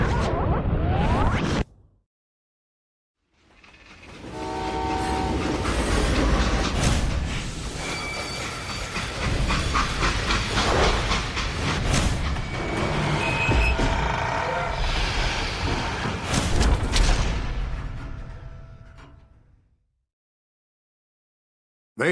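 A freight train in the Western shooter game Call of Juarez: Gunslinger rumbles and hisses loudly and steadily for about sixteen seconds after a short opening burst, then fades away to silence.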